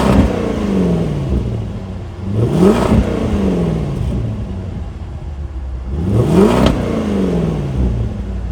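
A 2023 Land Rover Defender's supercharged V8 roars loudly and close, with two rising revs surging over a steady rumbling idle.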